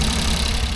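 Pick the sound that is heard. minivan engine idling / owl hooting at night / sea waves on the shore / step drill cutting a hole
minivan engine idling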